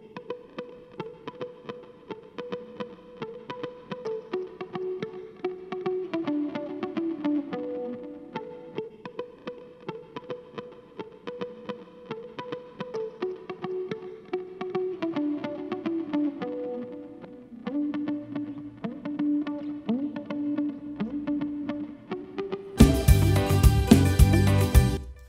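A Fender electric guitar plays a slow melodic line within a song, each note trailing a long reverb decay, before a sudden loud burst of full band near the end.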